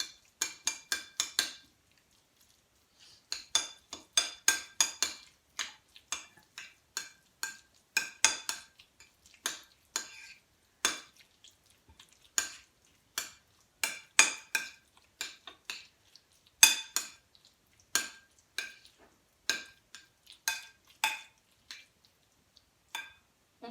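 Tuna and sardine stuffing being mixed in a bowl: a steady run of close utensil clinks and scrapes against the bowl, in bursts with a short pause near the start, and no talking.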